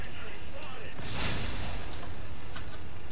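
Gunfire in the shooter game Battlefield Play4Free with an FN Minimi Para light machine gun, heard as a burst of loud shots around the midpoint over continuous game noise.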